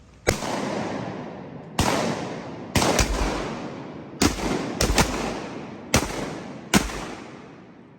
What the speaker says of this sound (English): It's a whole bunch of shooting and not much killing.